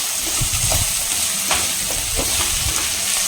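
Ginger garlic paste masala sautéing on a high flame for a peanut brinjal gravy makes a steady, close sizzle with soft stirring scrapes, all without talk.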